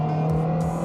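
A 2022 Toyota Veloz Q with a CVT in power mode accelerates, its engine droning in a steady, strained hum that holds close and loud without a break, with no talking.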